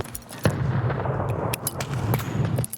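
Rapid bursts of gunfire crack over a steady rumbling background in the video game Escape from Tarkov, close and loud, with no voices.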